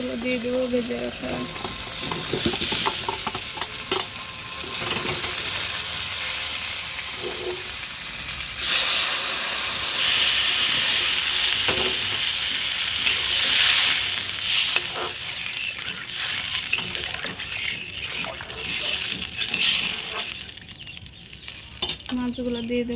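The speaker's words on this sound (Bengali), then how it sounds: "এবার আলুগুলো দিয়ে দেবো ভেজে রাখা।" Fried potatoes tipped into a pan of spiced oil for a fish-head and soya chunk curry, a continuous close sizzle and hiss with spoon stirring and scraping throughout, no voices.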